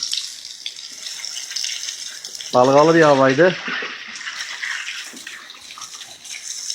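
Tap water runs and gushes steadily over fishing reels being rinsed of salt water while someone speaks briefly over the splashing.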